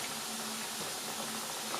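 Apple fritters made with kefir batter fry in hot oil, giving a steady, even sizzle that stays faint and continuous throughout, with no talking.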